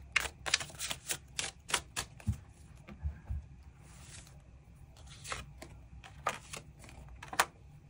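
Tarot cards being shuffled and drawn at close range: quiet crisp snaps and flicks in irregular bursts, with soft rustling between them and no voice.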